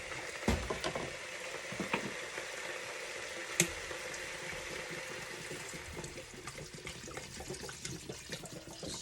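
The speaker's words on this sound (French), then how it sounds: "Là, je vais ajouter de l'eau." Water is poured into a pot of chicken broth with a wet, sputtering rush, faint and continuous, broken by a few small clinks and splashes, and no talking.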